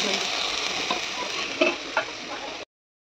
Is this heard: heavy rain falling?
no